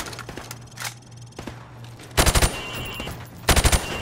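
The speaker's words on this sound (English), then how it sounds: "I want you to shoot the targets through the wood." Two loud bursts of automatic gunfire in Call of Duty: Modern Warfare Remastered, shots fired at targets through plywood, each burst a quick rattling run of close, heavy reports separated by a short pause.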